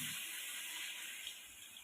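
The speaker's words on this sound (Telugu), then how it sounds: "నీళ్ళు పోసాము." Water pours in a faint, steady stream into a pot while country chicken is being cooked.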